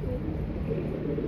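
Pigeons kept on a rooftop give soft, low cooing over a rumbling background, a brief murmur at close range.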